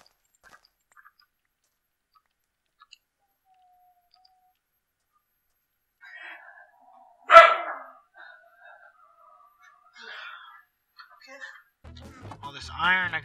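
A Minecraft dog gives a single sharp bark near the middle of an otherwise quiet stretch, followed by faint game sounds and a voice talking toward the end.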